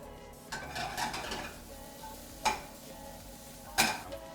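Cherry tomatoes dropped into a hot pan, a soft sizzle with a few sharp metallic knocks of utensil against the pan, close and fairly quiet.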